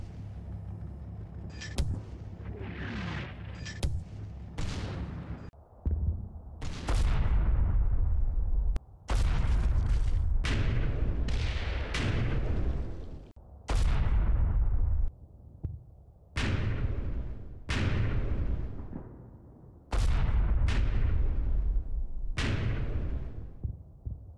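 Battalion mortar fire in the World War II video game Combat Mission Battle for Normandy: a long series of heavy, sharp booming impacts, some in quick pairs, others spaced seconds apart, loud and close with short gaps of quiet between.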